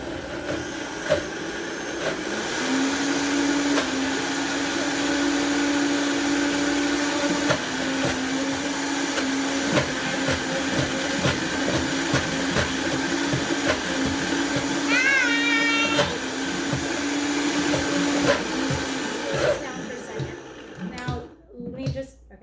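A blender whirs steadily for about twenty seconds, pureeing pesto greens with oil, its motor pitch shifting slightly as the mix thickens before it winds down, with people talking faintly underneath.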